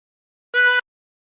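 A brief draw note through hole 4 of a 16-hole tremolo harmonica, a reedy tone with a wavering tremolo shimmer, held for roughly a third of a second, close and solo.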